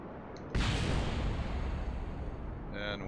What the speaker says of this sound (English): And we had a minor explosion.